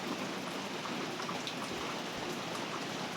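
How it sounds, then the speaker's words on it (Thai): Steady rain falls outside a rural Thai home while bamboo shoots are being pickled, a dense, even hiss of drops on surfaces that carries on without pause and with no voices. "บรรยากาศฝนมันตก"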